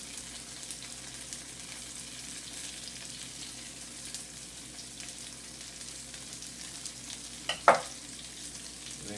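Chopped onion frying steadily in a hot pan for butternut squash gnudi, a soft continuous sizzle throughout with a brief louder clatter near the end.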